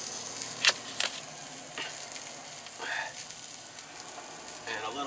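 Butter sizzling in a pan with bangers during Irish cooking in a van, giving a soft crackle broken by a few sharp pops and scrapes near the start and occasional clinks later.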